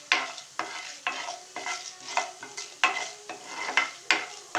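A spoon scrapes and stirs ingredients frying in a pan until golden, for a tomato kara chutney, in regular rhythmic strokes about twice a second over a soft sizzle, close and clear.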